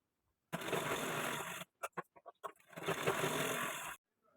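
A sewing machine stitches the tacking on a blouse in two steady runs, a longer burst and a second one, with a few short stop-start pulses between them. It is close and moderately loud, with no talk.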